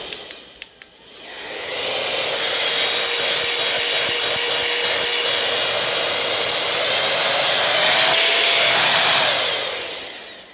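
An electric air duster spins up into a steady, loud whooshing blow lasting several seconds, with a faint rising whine near the end before it winds down.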